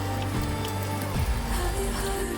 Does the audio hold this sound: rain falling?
yes